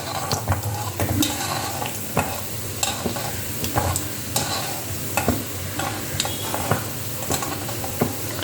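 Mustard seeds, urad dal and chana dal sputter and crackle in hot oil while being stirred, a continuous sizzle with sharp popping ticks throughout, close and fairly loud with no talking.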